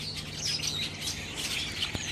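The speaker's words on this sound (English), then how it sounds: "The birds, the birds." Busy outdoor birdsong with overlapping chirps and tweets in a steady, moderately loud chorus, plus one brief sharp knock near the end and no speech.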